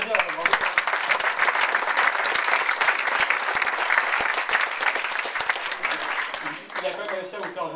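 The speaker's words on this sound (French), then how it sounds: "On l'applaudit, hein, bravo." An audience at an HTML5 developer meetup bursts into applause, a dense, steady clapping that holds for several seconds and then thins out, with a voice speaking over it.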